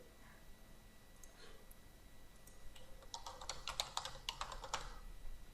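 Keys on a computer keyboard clack as a campaign title is typed, with a few scattered taps followed by a quicker burst of close, crisp keystrokes over a quiet background and no speech.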